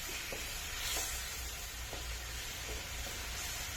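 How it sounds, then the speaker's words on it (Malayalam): Cooked masala being stirred in a hot pan, a soft continuous sizzle with faint scraping ticks from the spoon, quiet and close with no talking. "വേവിച്ച മസാല ഇതിൽ ചേർത്തിട്ടുണ്ട് ഇത് നല്ലോണം ഇളക്കുക"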